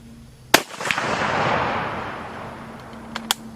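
A military surplus rifle fires a loud, sharp shot at a range, followed by a broad rolling echo and two lighter clicks, with no voices.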